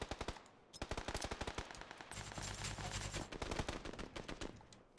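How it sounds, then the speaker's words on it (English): Rapid automatic gunfire in the PUBG battle royale video game on console, dense bursts of repeated shots cracking close and loud for the whole stretch, with a heavier sustained rumble partway through. "Careful there, because I got shot from the left."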